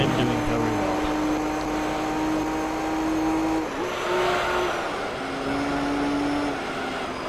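Racing car engine in the Gran Turismo 3 video game, short-shifting up through the gears: a steady buzzing drone that climbs in pitch and drops at each upshift, heard under faint talk.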